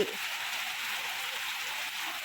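Heavy daytime rain pours steadily in a constant, dense hiss that stays even from start to finish with no other sounds.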